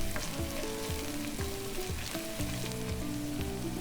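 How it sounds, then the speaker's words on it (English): Garlic and anchovies sizzle steadily in a hot pan while being stirred, a continuous close frying hiss with soft scraping strokes and a tonal background hum, no voices. "Now add the anchovy and keep stirring them."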